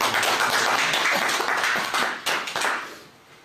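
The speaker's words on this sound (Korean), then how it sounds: "주님 앞에 감사의 박수 드리겠습니다" A church congregation claps hands together in a dense burst of applause after a prayer, fading out toward the end.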